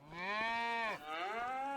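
Cows in the Farming Simulator 25 video game moo in a steady, drawn-out call with a brief dip in the middle, close and clear, with no talking.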